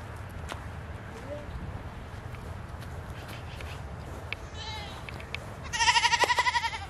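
Goats on a farm bleat in a short burst of loud, rapid pulsed calls near the end, following a stretch of quiet outdoor ambience with a few faint cries and footsteps.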